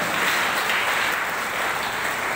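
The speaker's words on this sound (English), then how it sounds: "Let's give a big clap for them, for their presentation with the other children." An audience applauds children after their presentation at an Independence Day school event, a dense, steady wash of clapping that fills the space without pause.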